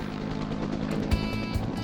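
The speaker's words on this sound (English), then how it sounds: "there's at least 500 gallons swinging under that chopper." A helicopter hovers with a firefighting water bucket holding at least 500 gallons slung beneath it; a steady, fairly loud rotor and engine roar runs throughout, with a couple of brief low thumps.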